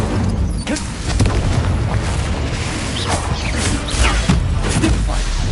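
An Incendio fire spell erupts in a Harry Potter video game as a deep, rumbling blast with rolling booms and crackling bursts, loud and sustained over several seconds.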